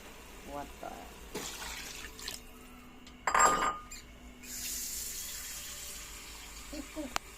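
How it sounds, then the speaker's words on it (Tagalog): Water pours from a tap into a pot for chicken and papaya soup, a steady splashing rush building in the middle and running on, with a person talking briefly around it. "Nilagyan natin ito guys ng water."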